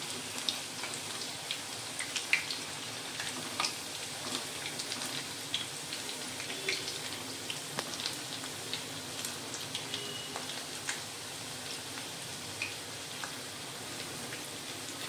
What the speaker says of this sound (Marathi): तर मध्यम गॅसवरच चकली आपण तळून घेणार आहे.